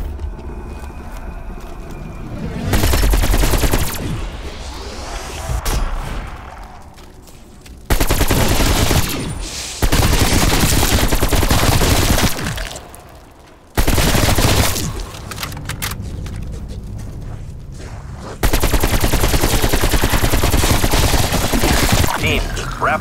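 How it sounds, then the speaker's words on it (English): Rifle fire in Call of Duty Zombies on the Firebase Z map, heard as loud sustained bursts of rapid shots in several separate stretches, broken by brief quieter gaps. "Now this is a nice rifle."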